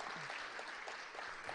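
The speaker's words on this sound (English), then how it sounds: "the partisan crowd from Emporia, gives her a nice round of applause as she is escorted off" Crowd applause in a gym at a girls varsity high school basketball game as an injured player is helped off the court. The clapping is faint and steady, a soft even patter from the stands throughout.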